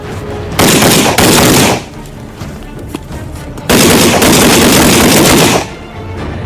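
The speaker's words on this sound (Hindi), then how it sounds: "कमांडोज को जो फायरिंग प्रैक्टिसेस सिखाई जाती है उनमें सबसे पहले है रोल ऑन एंड फायर" Two long bursts of rapid automatic gunfire from commando combat shooting practice, loud and close, separated by a short quieter gap.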